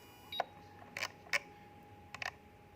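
A T12 soldering station sounds its low-voltage warning as a series of short, faint electronic beeps: single chirps, then a quick double at the end, spaced irregularly over a steady quiet hum.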